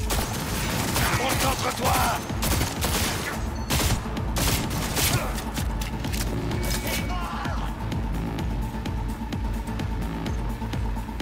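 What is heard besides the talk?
gunfire from an enemy shooting in video game Cyberpunk 2077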